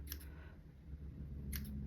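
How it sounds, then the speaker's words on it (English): Scissors snipping through looped paper scraps for handmade scrapbook embellishments, two short crisp cuts near the start and end over a low steady room hum. "So just grab your scissors and start cutting them up."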